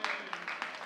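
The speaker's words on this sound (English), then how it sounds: "let's go ahead and give them a nice clap" Applause for bowling teams at a Westminster Lakeland bowling event, a brief spell of scattered, moderately loud clapping with a few sharper claps standing out.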